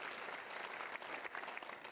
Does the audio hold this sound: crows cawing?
no